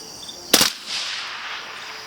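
A single sharp rifle shot fired while zeroing a thermal optic, outdoors at night. It is a loud, close crack followed by a short fading echo over faint insect chirping.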